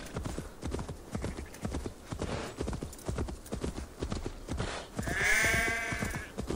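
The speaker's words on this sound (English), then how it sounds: "Lots of sheep around here." Sheep bleating in the video game Assassin's Creed Valhalla, a clear bleat rising over steady hoof clip-clop from a horse, outdoors in a game world.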